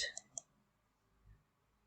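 Mouse clicks on a playlist icon on a computer, two or three quick, sharp, close clicks at the start, followed by near silence and a soft low thump.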